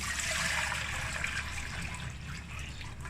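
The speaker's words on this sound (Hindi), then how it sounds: "इधर लेंगे हम एक बर्तन में डालेंगे हम पानी।" A steady rush of water pours continuously into a vessel, a broad hissing splash that holds level and eases slightly toward the end.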